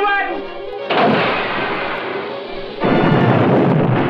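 Heavy weapon fire from a submarine in a 1972 film, a sustained roaring barrage that cuts in abruptly, holds, then surges louder again, with a faint voice underneath at the start.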